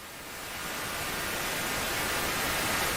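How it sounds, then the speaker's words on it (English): Steady broadband white noise played on a live morning radio show, a loud, even hiss that swells slightly at the start and then holds constant without any breaks. "This is actual white noise."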